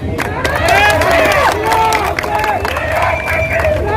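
A large crowd at an outdoor unity rally on a public ground chanting slogans together, loud and close, with rising and falling shouted voices and general hubbub throughout.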